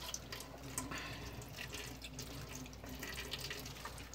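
Water running and trickling off rinsed rice as it is drained from the washing vessel, a steady soft splashing stream at close range with faint drips, no voice.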